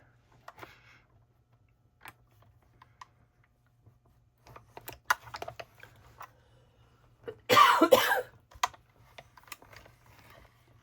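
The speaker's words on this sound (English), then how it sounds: "Sorry about the cough. Yes, I'm still coughing." A single burst of coughing, close and fairly loud, amid faint tapping and small handling noises in an otherwise quiet room.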